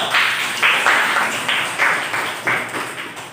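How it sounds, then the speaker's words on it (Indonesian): A classroom group applauds for group 4, giving loud, close clapping in repeated bursts. The clapping has a rhythmic, pulsing pattern that carries through the whole stretch. "Tepuk tangan untuk kelompok 4."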